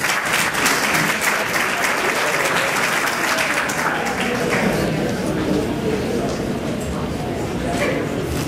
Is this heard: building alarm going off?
no